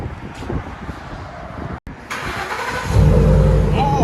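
A 2012 Ford F-150 with a 5.0L V8 and dual exhaust with the mufflers deleted, heard close outdoors, cranks and fires, then builds into a loud, deep rumble toward the end.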